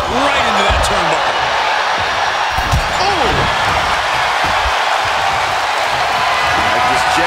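Crowd noise from the WWE 2K23 wrestling game at an Extreme Rules match, a loud, steady roar of cheering filling the whole stretch with a few thuds inside it.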